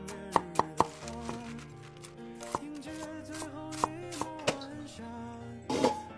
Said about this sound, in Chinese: 我把青菜切好来